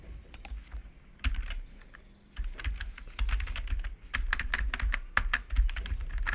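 Keys on a computer keyboard clatter in irregular bursts of quick taps, close and fairly loud, with short pauses between flurries and no talk.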